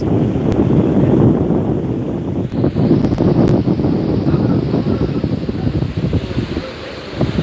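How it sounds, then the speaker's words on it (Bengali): Strong gusty wind blasts across Digha beach on the sea during rain, a loud rumbling buffeting roar on the microphone that rises and falls in waves. "শুরু হয়েছে বাতাস যখন তখন চলছে বাতাসের মানে ঝড়ের মতো গতিতে বাতাস"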